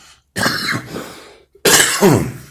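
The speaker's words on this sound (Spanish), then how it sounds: "Tengo tos también." Two bursts of harsh coughing, close and loud, separated by a short pause.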